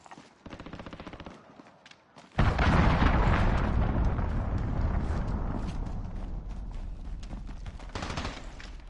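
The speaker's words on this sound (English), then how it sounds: "Allied cruise missile launched." A video game cruise missile strike: quiet crackling at first, then a sudden huge explosion that keeps roaring and rumbling loudly for several seconds before slowly easing off, with no talk over it.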